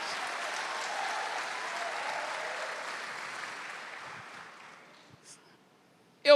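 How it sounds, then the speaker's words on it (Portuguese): Applause from a church congregation during a sermon, a soft wash of clapping that gradually fades away, followed by a sharp sound at the very end. "Dê para Jesus uma forte salva de palmas."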